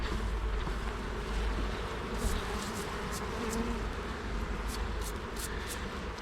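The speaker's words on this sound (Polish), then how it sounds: "jest dosyć sporo tutaj tej pszczoły w tym ulu" A dense, continuous buzzing of many honeybees in a hive during honey frame removal fills the space, steady and close, with no talking.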